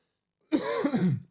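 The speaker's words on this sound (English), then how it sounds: "I'm still coughing" A single harsh cough with a throaty rasp breaks a brief silence, close and fairly loud, then fades out.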